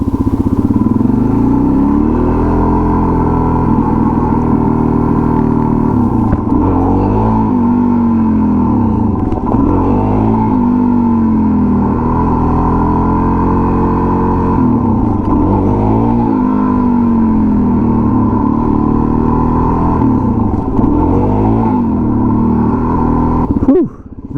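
An old, crusty motorcycle engine revs steadily and loudly during wheelie practice, a continuous near drone with repeated swells in pitch as the throttle rises and falls.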